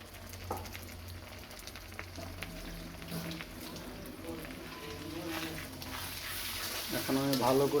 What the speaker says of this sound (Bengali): এখন আমি ভালো করে এটা ভেজে নিব